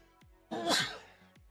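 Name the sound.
sneeze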